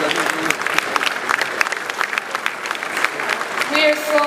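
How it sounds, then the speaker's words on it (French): An awards ceremony audience applauds with dense, continuous clapping that holds steady throughout, with faint crowd murmur beneath. "Est-ce qu'on peut l'applaudir, s'il vous plaît?"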